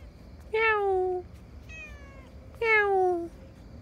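A cat meows three times, close and fairly loud, each call a drawn-out, falling cry separated by short pauses over a quiet background.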